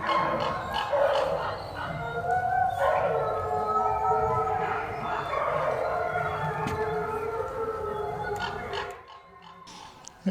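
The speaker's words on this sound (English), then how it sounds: "Wolves howl for various reasons, either to contact other wolves in their pack, to protect their own pack from foreign wolves, or when they want to rally the pack" Several wolves howl together in a sustained, overlapping chorus of long wavering tones at moderate distance, lasting most of the stretch before fading out abruptly.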